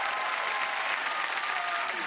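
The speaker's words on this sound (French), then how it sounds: "Merci de l'applaudir à Lame." A television show audience applauds a singer, dense continuous clapping filling the whole moment at steady volume with no voices.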